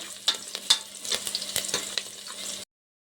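Vegetables and curry leaves frying for a vegetable pulao crackle and sizzle in a pan, with quick spatula scrapes and stirring clinks in close succession before the sound cuts off abruptly.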